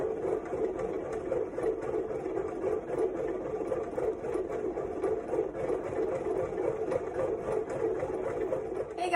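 Bread machine kneading cinnamon roll dough, a steady close mechanical whir with a faint rhythmic knocking that continues evenly throughout, no voices.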